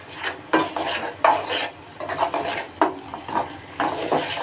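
Sugar melting without water in a pan for a sweet amla (Indian gooseberry) pickle, stirred with a utensil that gives repeated close scraping and clinking strokes against the pan, with no talk.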